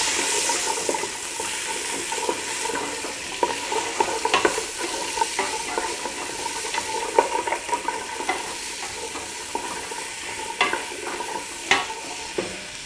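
Celery and carrot sautéing in a pan over medium-high heat for sweet corn and sweet potato soup, a steady close sizzle with scattered stirring clicks and scrapes running throughout.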